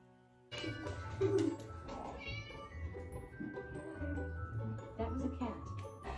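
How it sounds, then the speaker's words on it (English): A cat meows among household animals, its cries rising over steady background voices and other noise after a brief quiet start. "That was a cat."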